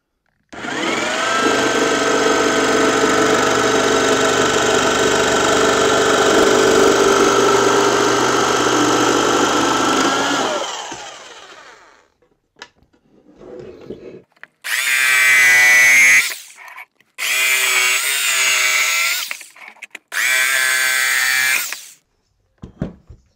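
A power saw blade whines loudly and steadily for about ten seconds as it cuts along the inside of a wooden molding box for sand casting, then spins down, followed by three shorter bursts of cutting.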